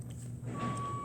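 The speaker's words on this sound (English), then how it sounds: "I'm sorry for the beeping in the back" Vehicle reversing beeps sound in a factory, a steady high tone coming in partway through over a low background hum from the workspace.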